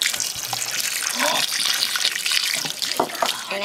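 Water is poured onto a small sand hill in an erosion demonstration, a close trickling and splashing pour with bubbly gurgles, fairly quiet.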